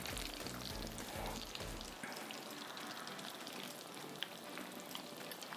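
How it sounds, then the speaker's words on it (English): Cronut pieces of laminated pastry dough sizzle steadily in hot frying oil, a dense crackling hiss that stays loud and even throughout, with a low rumble at the start. "Oh, can you hear that sizzle?"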